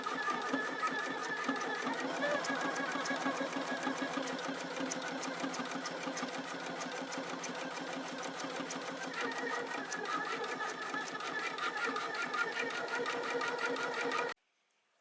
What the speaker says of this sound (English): I'm just gonna go ahead and press start, and then it's gonna start doing the satin stitch on the letter A